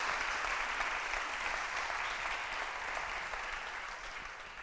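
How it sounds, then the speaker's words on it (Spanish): An audience at a live event applauds steadily, a dense, even wash of clapping that fills the whole stretch and fades only slightly toward the end. "Un fuerte aplauso para Santiago Díaz,"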